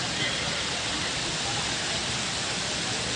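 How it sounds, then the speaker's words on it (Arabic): Heavy winter rain mixed with small hail pours down outdoors. A dense, constant roaring hiss holds evenly from start to finish. "المطر نازل جامد عندنا يا جماعه النهارده."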